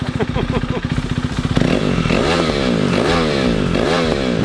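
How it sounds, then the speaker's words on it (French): A motorcycle engine idles with a rapid close-up putter, then roars through big throttle blips. The revs swell and fall back several times in a row, loud and near. "Je fais des gros coups de gaz"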